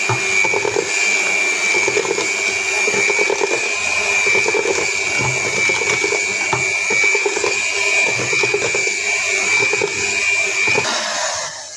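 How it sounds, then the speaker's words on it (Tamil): An electric mixer beats peanut biscuit batter after essence is added, giving a steady, close motor whine with a churning hum that runs without a break for about twelve seconds. "எசன்ஸை சேர்த்துட்டு இப்போ நாங்கள் திரும்ப அடித்து கொள்ளுவோம்"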